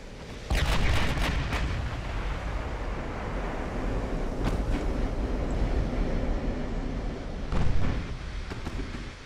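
Naval gunfire from 9-inch guns during a battle in Ultimate Admiral: Dreadnoughts, a dense rumbling barrage with sharp booming reports near the start, middle and close, heard alone without talk.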